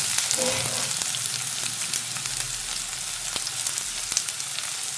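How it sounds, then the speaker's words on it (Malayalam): Sliced onion fries with curry leaves in hot oil while making an egg curry, giving a close, continuous sizzle with a few faint stirring ticks scattered through it. "ഇതൊന്ന് ചൂടായി വരുന്ന സമയത്ത് നമുക്കിതിലേക്ക് അരിഞ്ഞു വെച്ചിരിക്കുന്ന സവോള ചേർത്ത് കൊടുക്കാം"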